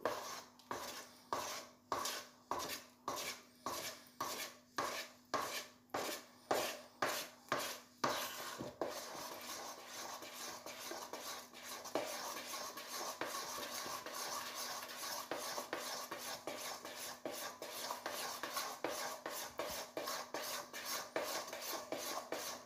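Butter being worked into crêpe batter for crêpes Suzette: about nine seconds of steady, rhythmic whisking strokes against the bowl, then a continuous softer scraping and stirring to the end, close and moderately quiet.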